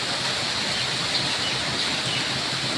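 Steady rain pours down on a village, a dense even hiss with no breaks, heard close and moderately loud for a few seconds.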